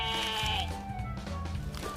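A sheep bleats in a loud, drawn-out, wavering call close by, followed by softer bleating and farmyard background sounds.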